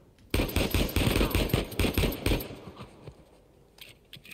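Rapid automatic gunfire in the action game Uncharted 4, a loud burst of quick repeated shots that stops after a couple of seconds and leaves quieter background sound.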